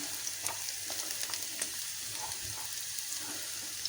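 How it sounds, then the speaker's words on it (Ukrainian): Onion frying in a pan for a homemade soup, a steady soft sizzle with scattered crackles and pops throughout, fairly quiet and close, with no talking. "перше цибульку будемо піджарювати, трошки вона піджариться"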